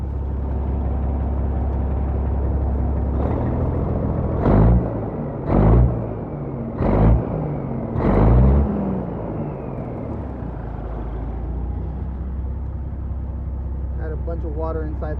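A Caterpillar 3406B diesel engine in a 1984 Kenworth W900B truck idles after a cold start, a deep steady rumble with several louder surging bursts midway and voices talking nearby.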